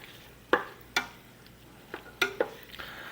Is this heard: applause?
no